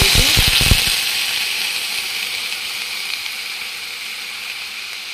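Tapioca pearls roasting in ghee in a pan give a steady, moderately loud sizzle. A few brief stirring clatters come at the start, and the hiss then settles and fades slightly.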